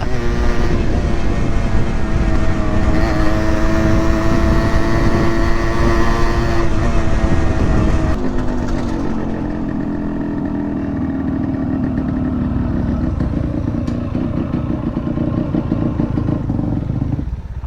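A modified Yamaha RX100 motorcycle being ridden, its engine a loud, close, continuous drone with a rough rattling edge. Partway through, the tone shifts slightly and settles lower as the ride goes on.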